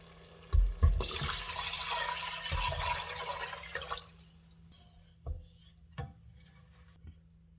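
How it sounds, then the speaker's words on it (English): Broth poured into a pot for Icelandic seafood stew, a broad rushing splash for several seconds, then fading into a few separate drips and small clunks, close and alone. "I'm now going to add my broth, followed by tomato concentrate, saffron, and red wine vinegar."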